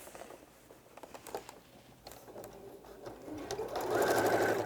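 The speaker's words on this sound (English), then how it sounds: "I'm just going to sew that in a square all the way around" A sewing machine runs steadily in a fast whirring stitch, growing louder and denser toward the end, with no voices.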